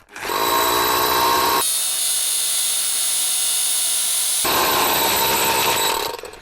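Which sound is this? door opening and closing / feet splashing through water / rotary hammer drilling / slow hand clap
rotary hammer drilling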